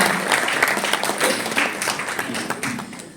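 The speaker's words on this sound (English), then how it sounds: "a big round of applause for each and everybody present here" An audience at the launch event for South Asia's first women's handball league in India applauds, producing a dense, sustained wash of clapping with some faint voices mixed in.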